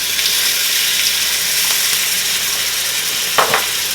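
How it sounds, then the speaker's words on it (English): Butter sizzling in a hot pan with seared short ribs, a loud, even hiss that holds steady for a few seconds, with a brief clatter near the end and no talk. "So now what we're going to do, we're going to add in some butter."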